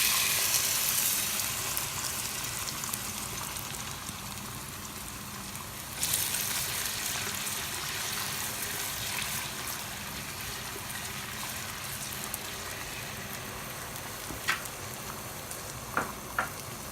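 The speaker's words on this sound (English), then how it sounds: "once it gets a little hot, we're going to add the onions, chopped onions" Chopped onions frying in hot oil in a big pan on a stove, a steady close sizzle and crackle throughout, with a few sharp clinks of a utensil near the end.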